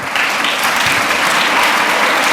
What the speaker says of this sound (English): give a round of applause to everyone involved in last night's concert